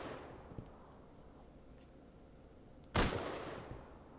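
Single sharp gunshot in the video game Rust rings out loudly over a faint background, followed by a brief decaying echo, with a softer pop earlier.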